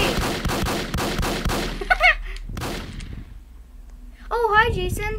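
Gunfire in a Roblox game, several rapid shots in the opening seconds over background game noise, followed by a quieter stretch and a brief burst of other game sounds, with excited talk mixed in.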